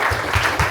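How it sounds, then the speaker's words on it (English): Brief burst of audience clapping at a live backpacking podcast recording, a short dense patter lasting under a second. "Everyone give Garrett a round of applause."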